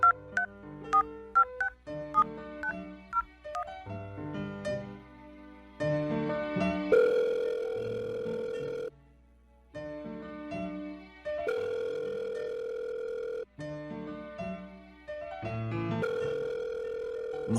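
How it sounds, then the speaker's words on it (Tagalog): A cellphone plays a string of short dialing beeps, then a long repeating ringback pattern of steady tones separated by brief gaps. The sound is faint and electronic, with no voices. "O sige, susubukan ko siyang tawagan ulit."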